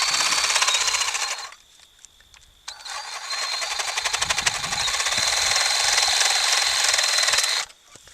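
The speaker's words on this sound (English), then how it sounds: "Thankfully, Sawzall is very good at cutting bone, but not so much on the flesh part." A Ryobi 18-volt reciprocating saw cuts through deer bone while a deer is field dressed, its loud, close buzzing strokes running in a short burst, pausing for about a second, then continuing in a longer steady run before stopping.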